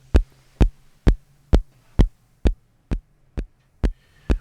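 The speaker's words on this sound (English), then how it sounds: "we're getting some interesting and useful kick drum tones" A synthesized kick drum, patched from a Eurorack module, thumps ten times at a steady, even tempo, each hit punchy and deep with a short decay, with no other sounds.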